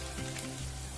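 Eggplant slices fry in hot oil for Baingan Bhaja, giving a dense, steady sizzle that is close and continuous through a brief moment, with no voices.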